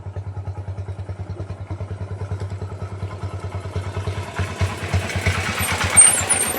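A motorcycle engine idles close by, a steady rapid thumping putter that grows slightly rougher and louder toward the end as if revved, with no talk over it.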